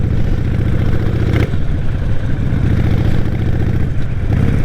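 A Harley-Davidson Nightster motorcycle running steadily underway, a close, loud, continuous low engine rumble with mechanical clatter and no speech.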